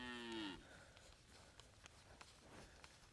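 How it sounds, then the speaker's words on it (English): A commercial beef cow on a rotational grazing pasture gives one short, loud moo right at the start, followed by faint shuffling and hoof sounds in the grass. "She's a commercial cow."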